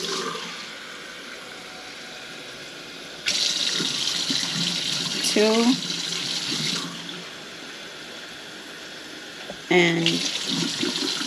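Tap water runs in two separate bursts while rice is rinsed in the sink. Each burst is a steady, fairly close rush with small splashes, and a voice counts aloud between them.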